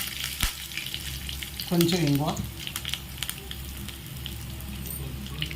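Mustard seeds, cumin, fenugreek seeds, a dried red chilli and curry leaves sizzle and crackle steadily in hot oil as tempering for a tamarind and fenugreek-leaf dal, with a brief spoken voice partway through.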